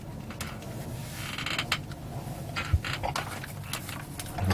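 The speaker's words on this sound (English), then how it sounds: "prise this thing open" An Arnova 7 G2 tablet case being prised open by hand: light plastic creaks and small clicks over a faint background.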